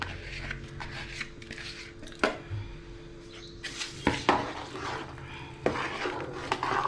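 A spoon scrapes and clinks against a pot while rice and water are stirred for coconut rice over a high flame, irregular knocks and scrapes at close range with a faint background hum.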